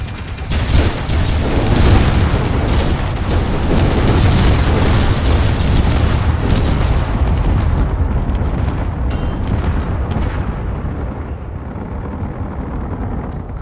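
Space Engineers video game combat: heavy booming explosions and rumbling blasts mixed with dense rapid Gatling gun fire, loud and sustained, tapering toward the end.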